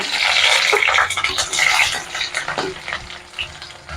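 Garlic, shallots and green chillies sauté in hot oil with fenugreek for a Kerala tamarind curry, making a loud, continuous close-up sizzle with stirring scrapes and no talk.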